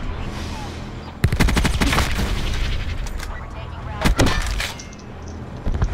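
Bursts of automatic gunfire in the online shooter Black Ops 4, loud rapid volleys that start abruptly and return in clusters, with a player talking over the action.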